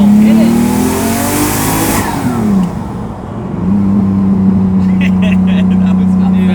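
A 750hp twin turbo Lamborghini Diablo pulls hard, its engine note climbing loudly through the gears with a brief dip at a shift, then droning on at high revs, heard from close up.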